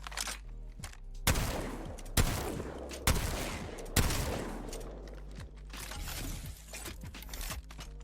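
A PK shotgun fires in the video game Apex Legends, four heavy, booming blasts spaced roughly a second apart, each trailing off in a short echoing tail, followed by quieter rattling and handling noises.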